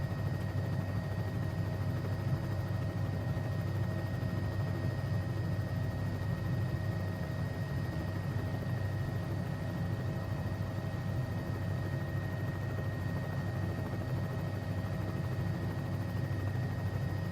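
Bell 206B3 helicopter engine running in flight within a simulator game, an even low rumble and turbine whine holding at one level without pauses.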